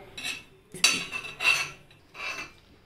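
A ground paste for potato nuggets is stirred and fried in a pan over low flame, with a spoon scraping and clinking against the metal in four separate strokes, quiet and close.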